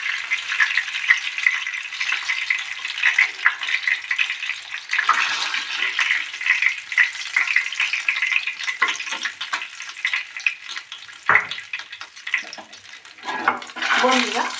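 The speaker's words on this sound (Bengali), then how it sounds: "অল্প করে মাছটাকে ফ্রাই করবেন, একদম ডিপ লাল লাল ফ্রাই হবে না" Bhetki fish fries in a small measure of oil, giving a continuous loud sizzle with crackling bursts and occasional scraping.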